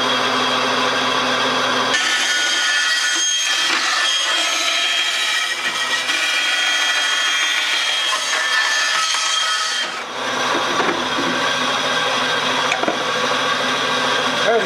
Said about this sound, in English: I don't want to cut my shaft tube and destroy my bandsaw blade here.